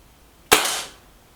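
A Kral Puncher Breaker bullpup air rifle fires a single pellet shot, a sharp close crack followed by a short fading hiss.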